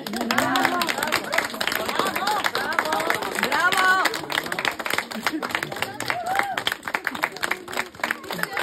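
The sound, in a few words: audience applause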